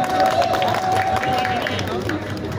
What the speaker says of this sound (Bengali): আপনারা তালি দিলে জোরে তালি দেন না,